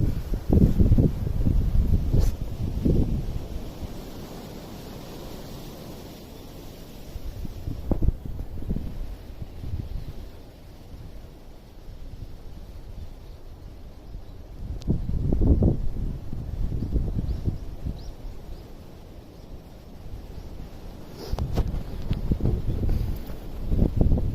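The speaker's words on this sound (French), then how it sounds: "il y a du vent, pas mal de vent" Wind gusts roar against the microphone outdoors at a temple in Japan among blossoming cherry trees, swelling and easing in several rough bursts over a low rumble, with no talk.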